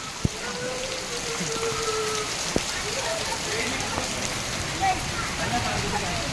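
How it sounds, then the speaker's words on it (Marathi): Steady heavy unseasonal rain hissing without pause, with a couple of sharper drop hits standing out against the constant downpour. "ढग करत आहेत फुल पाऊस आहे"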